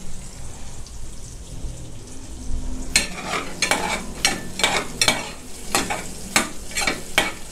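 Aromatics frying in pork fat over low heat for a Chinese-style baked shrimp with glass noodles, a quiet bed of sizzle that turns into a run of sharp, regular stirring scrapes about every half second.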